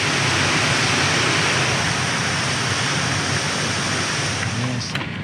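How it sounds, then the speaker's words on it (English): Canal overflow water rushing down sluices into a weir section before joining a river, a steady, loud, broadband roar that continues unbroken throughout. "it'll run down the sluices into this sort of weir section and down into the river"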